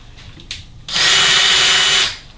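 A cordless power drill whirs loudly in one continuous burst of about a second, driving a screw into a reversible pilot seat on a Boston Whaler Montauk or Outrage boat, preceded by light handling clicks.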